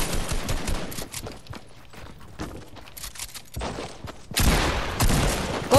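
Automatic gunfire in a video game: loud, rapid bursts of shots rattling out close by, separated by short pauses, with no talking.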